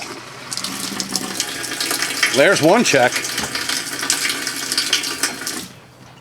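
An outdoor washing machine connected to a garden hose fills with water in a steady gushing rush, with brief whining tones midway, as a voice speaks over it.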